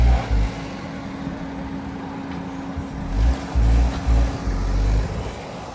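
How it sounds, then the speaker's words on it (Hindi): A stuck car's engine revs in repeated low bursts over a constant rumbling drone, loud and close, with brief pauses between surges. "गाड़ी फंस गई है।"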